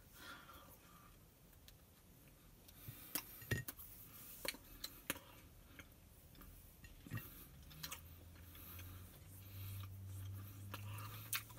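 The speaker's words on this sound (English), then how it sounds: "So, let's take a bite." Someone bites into and chews a soft Trader Joe's gingerbread cookie. Faint, close mouth sounds come as scattered small clicks and smacks over quiet room noise, ending with a low hum.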